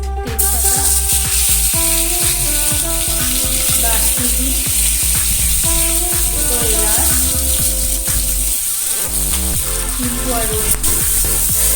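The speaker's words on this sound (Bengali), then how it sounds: "ডিমগুলো আমার ভাজা হয়ে গেছে," Eggs crackle and spit in hot oil in a pan for a Bengali egg posto, a dense, loud, continuous sizzle with rapid popping throughout, very close, with faint kitchen noise beneath.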